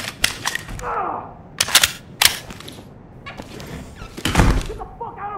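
Sharp gunshots ring out in the tactical shooter game Ready or Not, a handful of loud, close cracks spaced irregularly over ongoing background noise, with a voice briefly under them.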